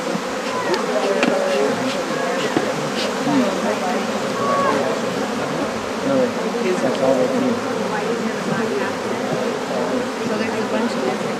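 Honey bees buzzing densely around an open hive during a hive-splitting beekeeping class, a steady close hum with people talking over it.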